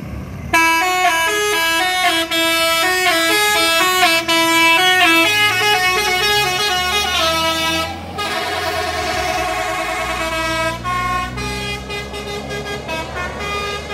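A Ford bus nicknamed Ford Decok sounds a loud musical multi-tone horn as it prepares to leave Solok's new bus terminal, a long melodic sequence of sustained notes with a brief pause partway, heavy engine rumble beneath.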